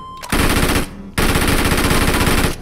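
Rapid automatic gunfire in a shooter video game, two loud sustained bursts of close rattling shots separated by a short pause.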